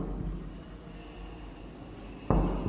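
A maths solution being written out by hand, with soft continuous scratching and rubbing strokes of pen or chalk, close and fairly quiet, then a louder scrape near the end.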